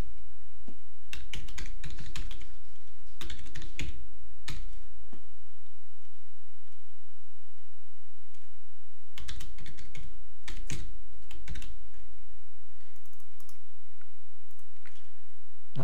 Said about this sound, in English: Oh, I'm typing in the wrong box.